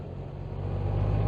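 A Honda Gold Wing motorcycle engine pulls out of a corner at low revs in fifth gear, a close, steady low rumble that swells slightly over a brief moment.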